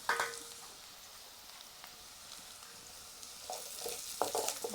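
A pan of vegetables with curry leaves and coriander being stirred, a faint low sizzle with a few soft scrapes and clinks of the spoon, quiet and close, with no speech.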